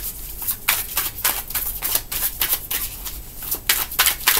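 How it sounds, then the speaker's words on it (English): Tarot cards being shuffled by hand at close range, a steady run of crisp riffling and slapping strokes for several seconds with no talking. "Gonna get five cards out here."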